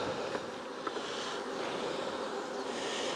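Honey bees drone steadily at an open hive during queen introduction, a continuous close buzzing hum with no voices.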